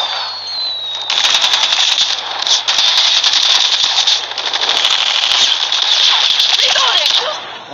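Loud, sustained automatic LK24 gunfire in Call of Duty Mobile, rapid bursts rattling almost continuously for several seconds with brief gaps, a voice faintly mixed underneath.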